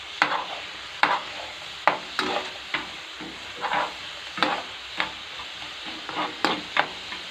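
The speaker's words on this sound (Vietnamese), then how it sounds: "Mình đảo đều đi là mình tắt bếp thôi," Shrimp braised in fish sauce gets stirred in a pan, a steady sizzle broken by about a dozen sharp clinks and scrapes of the utensil at an uneven pace, close and moderately loud, with no talking.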